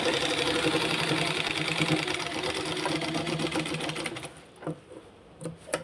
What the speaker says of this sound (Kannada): ಈ ಲೈನಿಂಗ್ ಮೇಲೆ ಒಂದು ಸ್ಟಿಚ್ಚನ್ನು ಹಾಕಿಬಿಡ್ತೀನಿ